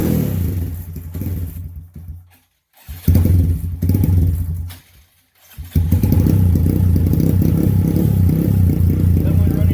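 Honda Grom motorcycle running on E85 fuel is started up, cranking bursts with brief silences before the engine catches and settles into a loud, close, rough idle.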